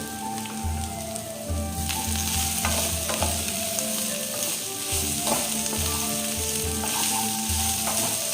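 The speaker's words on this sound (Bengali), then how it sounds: "গ্যাসটাকে একটু কম করে দিয়ে এইগুলো ভাজবো।" Vegetables including red bell pepper and capsicum, seasoned with salt and pepper, fry and sizzle steadily in a pan over lowered gas heat for homemade chow, with the steady hiss joined by stirring clatter and no talk.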